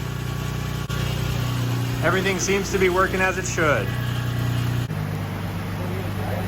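A Nissan 350Z's VQ engine idles steadily with a low hum throughout, while someone speaks briefly over it.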